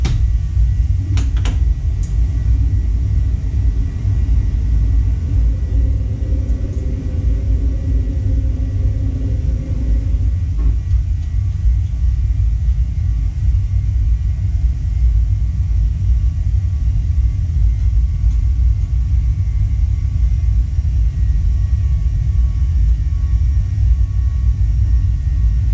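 An airplane takes off and climbs with a constant, heavy low rumble, and a few brief clunks sound early on.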